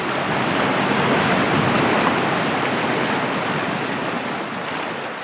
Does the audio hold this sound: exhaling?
no